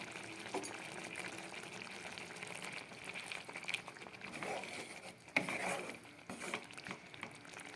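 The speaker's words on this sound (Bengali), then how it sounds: "এবার ফুটে উঠেছে" Egg poach gravy with ghee bubbling up to a boil in a pan: a steady low simmering patter with soft liquid gurgles and occasional clinks, fairly close and continuous.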